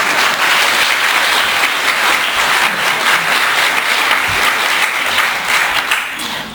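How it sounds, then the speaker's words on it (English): Audience applause at a city council meeting, a continuous, full round of clapping from a roomful of people, loud and even throughout with a slight fade at the end. "please give her a round of applause"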